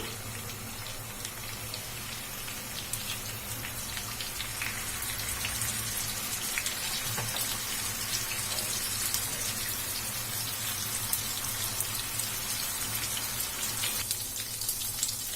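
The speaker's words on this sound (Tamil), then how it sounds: "இப்போ நம்ம மசாலா தடவை வச்சிருக்க சிக்கனை இதுல வச்சிடலாம்" Marinated chicken 65 fries in coconut oil in a pan, giving a dense, even crackling sizzle with fine popping throughout, close and steady and without any talk.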